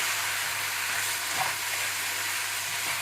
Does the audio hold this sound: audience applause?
no